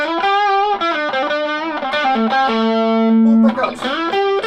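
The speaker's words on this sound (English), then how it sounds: "it doesn't sound as different when we get the distortion on it" A cheap Chinese Telecaster-style electric guitar plays a short melodic phrase through heavy distortion, sustained notes ringing loud and buzzy with a sliding bend near the end.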